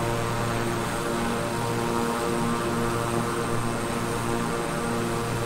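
Beechcraft King Air 350i turboprop climbing in Microsoft Flight Simulator, a steady loud propeller drone with a strong low engine hum and constant airflow hiss throughout, no talking.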